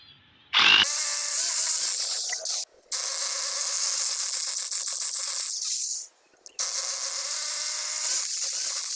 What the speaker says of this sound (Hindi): अब इसको ड्रिल करते हैं।